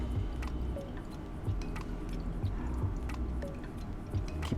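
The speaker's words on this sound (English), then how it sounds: "the hiss indicates that we plunged all of the water through the coffee bed" Soft hissing and squishing from an AeroPress plunger pressed slowly through a wet bed of coffee grounds, with scattered drips and faint clicks, steady and close.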